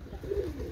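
Pigeons, Chinese teddy and white golden birds, coo in a low, soft, rolling burst close by, with no talk.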